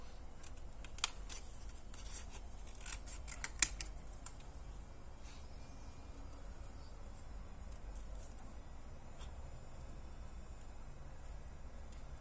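Scissors cut out a paper butterfly from craft paper scraps, giving faint, scattered crisp snips and clicks in the first few seconds over quiet room tone, then near silence.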